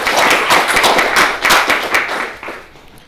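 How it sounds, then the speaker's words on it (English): Audience applause at a Scala programming meetup talk, loud and close, with many hands clapping in bursts that build briefly, then taper and fade toward the end. "So loud applause for Jakub."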